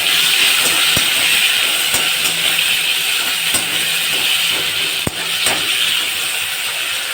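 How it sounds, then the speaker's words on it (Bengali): Tomato fries in oil with whole spices such as dry chilli, bay leaf, clove, cardamom, cinnamon and asafoetida, giving a loud, steady hiss with a few sharp clicks on top. "ফোড়ন দিলাম, এবার আমি টমেটোটাকে একটু ভেজে নেব"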